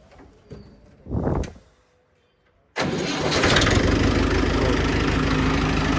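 A 1996 Farmtrac 45 tractor in clean condition cranks with a short whirring burst, pauses, then catches and settles into a loud, steady diesel idle close by; no one talks.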